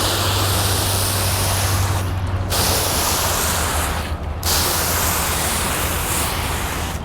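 A hissing water spray from a nozzle rinsing a car rushes steadily, broken by two brief pauses, with a low rumble underneath, close and fairly loud.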